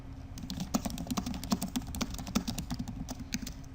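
Rapid, steady keystrokes on a computer keyboard while an email subject and message are typed, many close crisp clicks in an even run with no talking.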